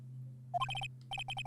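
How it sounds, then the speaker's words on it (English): A phone ringtone from the video game Phoenix Wright: Ace Attorney – Justice for All, a short rising chime followed by two quick bursts of bright repeated electronic beeps over a low steady hum. "That's right, my ringtone."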